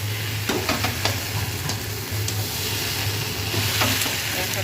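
Aloo posto, potatoes with poppy seed paste and a little sugar, is stirred in a pan, making a close, continuous frying hiss with soft spatula scrapes over a steady low hum.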